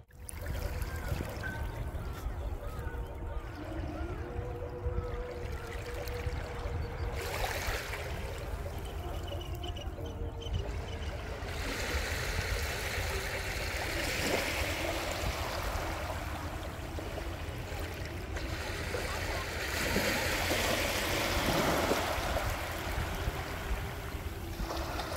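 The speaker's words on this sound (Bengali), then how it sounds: "ঢেউটা এখানে অতটা জোরালো" Sea waves washing onto the beach at Bakkhali, a steady broadband wash of surf rising and falling over the whole stretch, with brief surges of splashing water and no talk.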